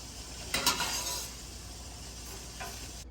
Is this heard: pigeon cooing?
no